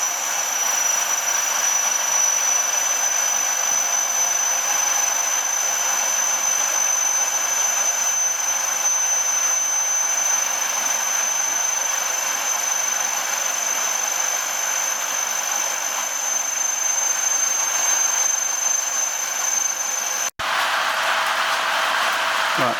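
A milling machine makes a climb pass cut, giving a steady, loud, high-pitched cutting whine with an even mechanical hum that runs unbroken until a sudden click near the end.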